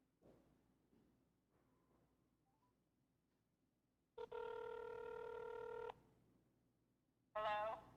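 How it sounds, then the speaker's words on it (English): Dialing a cell phone from a meeting line, a quiet pause then a loud steady ringback tone lasting nearly two seconds, followed by the start of a second ring, near and clear. "we are dialing her cell phone"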